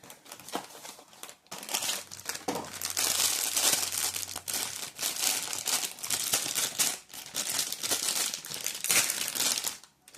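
Plastic wrap is peeled and crinkled off small glued-shut Funko Mystery Mini boxes from a Beetlejuice set, a dense, continuous close crackling with sharp tearing bursts over about ten seconds and no talking.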